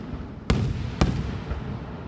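Fireworks explode at a July 3rd town show in Montgomery: two sharp, loud booms about half a second apart, each followed by a brief rumbling tail over a steady background murmur.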